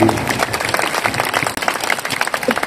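An audience at a large Islamic religious gathering in Indonesia breaks into loud, sustained applause and dense clapping. A speaker's voice carries over the crowd.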